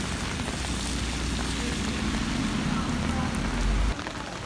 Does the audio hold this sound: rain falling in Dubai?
yes